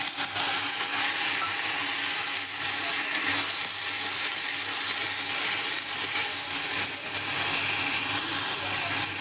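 Ground spice paste hits browned onions in a pan for an egg and potato curry, giving a loud, continuous, close sizzle that holds steady throughout with no talking.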